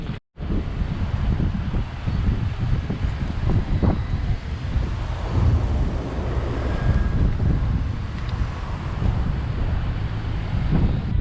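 Wind blowing outdoors on a hot day at a lively spot in Paris, a steady loud rumble of gusts buffeting the microphone that runs continuously for the whole stretch with no voices.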